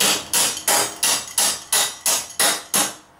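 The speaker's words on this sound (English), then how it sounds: "Gonna go ahead and knock this bolt through." Sharp metallic blows from a crescent wrench used as a hammer strike a bolt on a Scag lawn mower in a steady rhythm, about eight hits in quick succession, loud and close with no talking.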